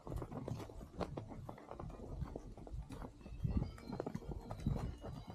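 A horse walks through a quiet snowy forest in the Koktokay Grand Canyon, its hooves crunching in a soft, steady plodding rhythm, close by and fairly faint, with no talk over it.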